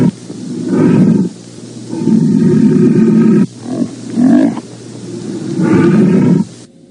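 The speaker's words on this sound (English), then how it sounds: "Whereas the roaring of a lion is a dull sound." Deep, rumbling lion roars come in several long bursts separated by short pauses, loud and close, with grunting breaths between.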